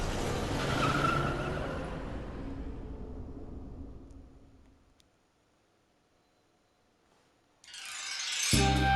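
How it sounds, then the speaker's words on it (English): A van drives off in the video game Five Nights at Freddy's Help Wanted 2, with a loud engine and tire noise that fades over several seconds into near silence before a sharp burst of noise returns. "And then the van drives off."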